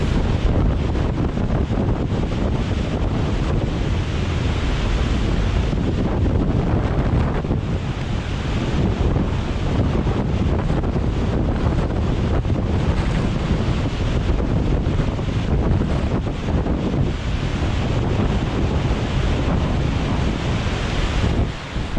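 A steady, loud roar of water overflowing Swinsty reservoir's spillway by the dam wall, continuous and unbroken throughout, with no voices.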